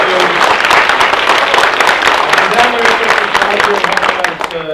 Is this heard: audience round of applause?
yes